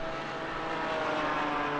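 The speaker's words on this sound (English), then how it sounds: "you could hear the revs spike there as he lit up the rears" Simulated GT4 race car engine in a sim racing game at Catalunya, a steady dense roar with harmonic whine that surges briefly as the revs spike under wheelspin, loud and continuous with no talk.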